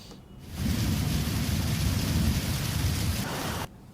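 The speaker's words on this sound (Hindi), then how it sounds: "आज बहुत अच्छा बारिश हो रहा है।" Steady rain pours down in Jharkhand, a dense continuous hiss of falling water that holds at an even level for several seconds before cutting off abruptly.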